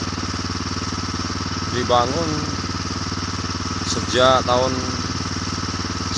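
A borewell water pump engine drones steadily and evenly in the foreground throughout, with someone speaking over it in two short bursts.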